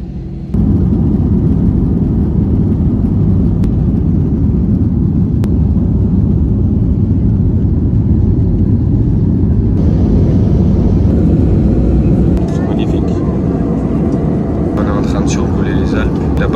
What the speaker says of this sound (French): On va bientôt décoller.